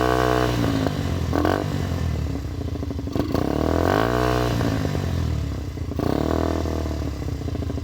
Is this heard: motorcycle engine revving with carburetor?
yes